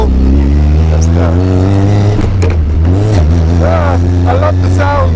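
A Caterham 620R sports car engine revving loudly up and down close by, the pitch rising and falling repeatedly, with a voice talking over it.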